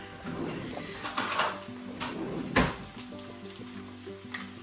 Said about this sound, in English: I'm going to add just a little bit of butter